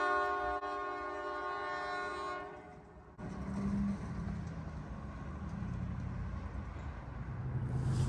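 CSX freight locomotives roll past, opening with a long sustained horn blast that cuts off abruptly, followed by the steady rumble and rail clatter of the passing train.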